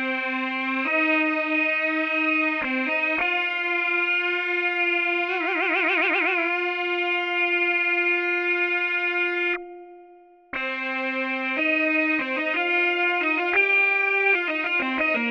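A sustained Arturia ARP 2600 V software synthesizer tone with a shimmering, wavering chorus effect shifts through several notes, steady and loud, with a brief gap near the end.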